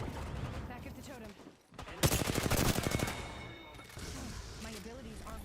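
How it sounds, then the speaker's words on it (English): Bursts of automatic gunfire crackle in an Apex Legends firefight, a dense volley in the middle stretch with lighter shots around it and speech-like chatter over the action. "Getting shot at."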